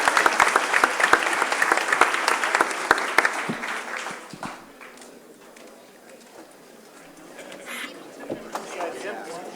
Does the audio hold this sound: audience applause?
yes